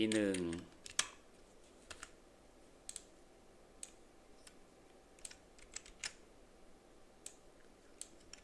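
A computer keyboard clicks under quiet room tone: single keystrokes are scattered and irregular, about one or two per second, with a short louder flurry near the start. A brief voice opens the scene.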